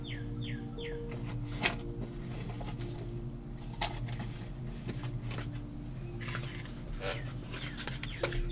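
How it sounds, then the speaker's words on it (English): Birds chirp from a tree outside a window, short faint calls scattered over a quiet indoor background with a steady low hum. "you are hearing the bird that lives outside of my window in the tree"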